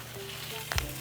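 Garlic butter spritz hitting pork ribs on a smoker, a brief wet spray burst over a steady low sizzling hiss.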